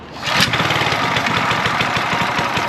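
A VEVOR plate compactor's small engine starts up and throttles to a steady, loud, buzzing run close by, with no one talking.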